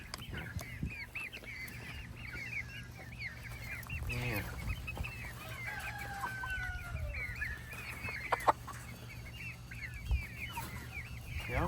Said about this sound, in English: We've got a whole bunch of meat chickens.